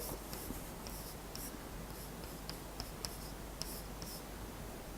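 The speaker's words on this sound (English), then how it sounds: "I'll write down the condition." Chalk or marker writes on a board during a mathematics lecture, with soft, faint scratches and light taps spread evenly over a quiet room hiss.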